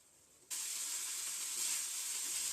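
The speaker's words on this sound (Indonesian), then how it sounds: "Lalu aduk hingga tercampur rata dan masak sampai kering ya." A seasoned filling with oyster sauce hits a hot pan and is stir-fried until dry, giving a sudden bright sizzle that holds as a steady, close hiss with no talking.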